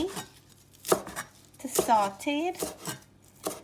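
Kale is chopped into fine pieces with a few spaced knife knocks on a cutting board while a person talks over the cutting.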